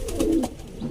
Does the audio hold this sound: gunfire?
no